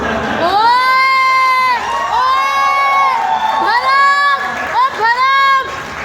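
A crowd at the trailer launch for the Pakistani film Zombied cheers and whoops in loud, repeated voiced swells lasting several seconds, with shouting dominating over any clapping.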